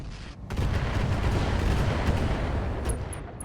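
Turrets fire in the mech combat game Roguetech, a heavy, rumbling barrage of booming gunfire that swells in and sustains loudly for several seconds before fading.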